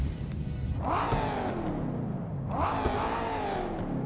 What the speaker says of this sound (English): the ATR engine also sounds fantastic